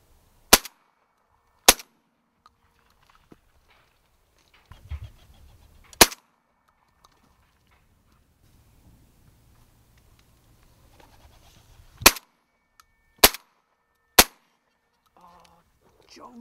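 Sharp, loud shotgun blasts with steel shot ring out during a pigeon shoot in hot weather, six separate reports spaced irregularly over a quiet outdoor background, with faint low rumbles and a little distant activity between them.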